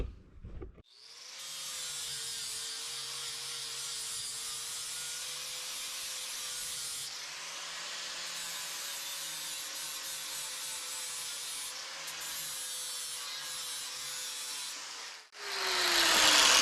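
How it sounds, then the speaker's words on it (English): A new flap wheel on a grinder cleans up a steel pipe for a custom crossmember on an LS-swapped S10, spinning up and grinding in a steady, close, high whine for about fourteen seconds before winding down. "this new flap wheel here, boy, is putting in some work"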